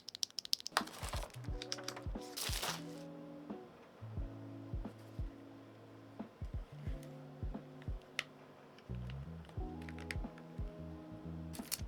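Typing on an XVX HE68 magnetic keyboard: bursts of crisp, close keystrokes in quick runs separated by short pauses, clicking along alone with no voices.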